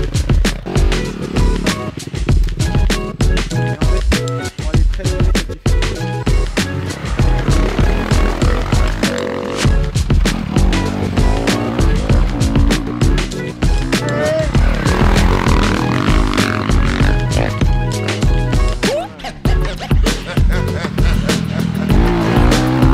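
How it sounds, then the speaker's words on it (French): Motocross motorcycles riding the Montgueux dirt circuit, engines revving and rising and falling continuously and loudly throughout, with a brief voice in the mix. "On va faire du motocross."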